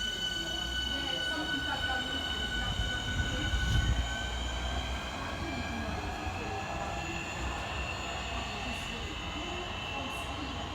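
Southeastern electric trains 465008, 465014 and 466023 depart a station on the Charing Cross to Hayes line, a sustained layered motor whine over continuous wheel rumble, with a louder low thump near the start.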